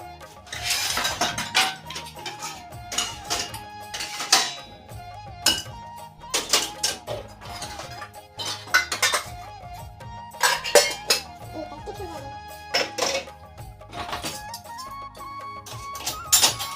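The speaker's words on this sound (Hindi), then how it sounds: "हमार मन के खाना पीना हो गए ते बर्तन जमावत है" Dishes, pots and utensils clink and clatter in a home kitchen after a meal, with repeated sharp metallic knocks and scrapes in an irregular rhythm, close and moderately loud, with no talking.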